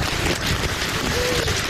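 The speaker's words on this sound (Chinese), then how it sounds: "康瑞台风直扑带来狂风暴雨" Heavy rain from Typhoon Kong-rey pours down in Hualien, Taiwan, a dense, continuous roar of rain and wind that stays loud and even throughout, with no clear voices.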